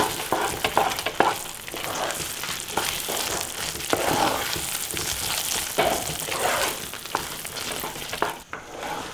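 A spoon stirs cashews and cardamom powder through thick banana halwa in a hot pan, a continuous close sizzle with rhythmic scraping strokes, loud and without any talk.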